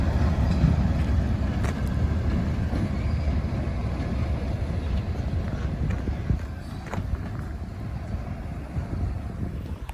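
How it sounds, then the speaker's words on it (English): An old Southern Railroad switcher locomotive pulls a train uphill, its steady low rumble and rolling wheel noise filling the scene continuously, close by and fairly loud, with faint clanks scattered through. "It's an old Southern Railroad switcher."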